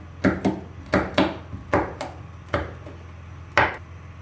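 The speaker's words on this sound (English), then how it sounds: "So now I'm doing the same for my red pepper, chopping in squares to match the shape of my yellow bell pepper." A knife chops a red bell pepper into squares on a cutting board, giving about nine sharp, close knocks in an uneven rhythm with brief pauses between them, and no one talking.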